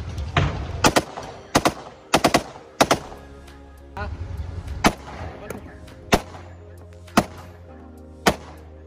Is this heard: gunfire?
yes